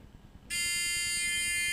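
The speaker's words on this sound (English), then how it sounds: "when I break the light, the buzzer should come on." A 555 monostable circuit's buzzer switches on abruptly when a light beam is broken, giving a loud, steady electronic tone that holds unbroken after a brief quiet start.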